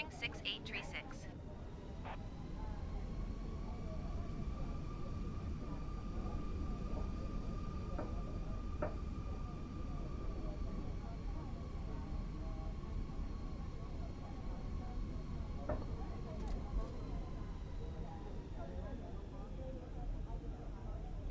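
A Spring Airlines airliner rolls for takeoff from runway 35 right in Microsoft Flight Simulator 2020, a steady, faint engine roar with a rising whine holding throughout.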